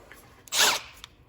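A power tool gives one short, loud whirring burst of about a third of a second while driving a bolt into an Audi VW 2.0T lower metal timing case cover, with faint clicks just before and after.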